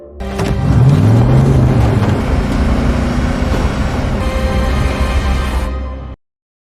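An armored car drives through smoke and fog in a film scene, a loud, close, continuous engine roar with a rising whine near the start that holds steady before cutting off abruptly.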